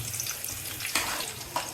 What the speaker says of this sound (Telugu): సో దీంట్లో రైస్ అయితే వేస్తున్నా